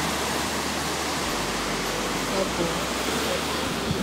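A large glowing river in Florence, Italy rushes steadily as a broad, continuous wash of water noise close by, with a brief spoken word over it.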